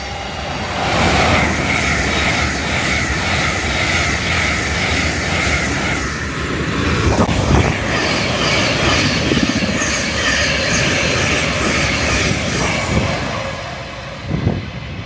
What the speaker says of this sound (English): But platform 2 do see fast trains passing through this railway station.